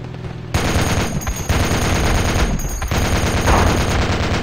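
Loud automatic gunfire in the military shooter Project Reality starts abruptly after a brief quiet moment, then rattles on in sustained bursts with sharp cracks layered over a rumbling background, close and intense.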